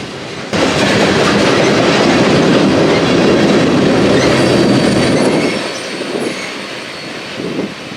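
Freight train with a long string of brand-new tank cars rolls past close by, a loud continuous rumble with wheel clatter and squeal that eases slightly toward the end.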